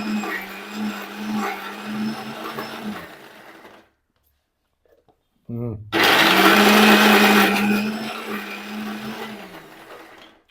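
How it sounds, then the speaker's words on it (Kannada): A mixer grinder blends green juice with a little added water, its loud whirring motor running for about four seconds, stopping briefly, then starting again even louder and running steadily. "ಮಿಕ್ಸರ್ ಹಾಕ್ಬಿಡು ನೀವು"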